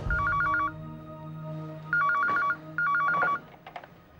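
A telephone rings in three bursts of warbling electronic tones separated by short pauses, with soft background noise between rings.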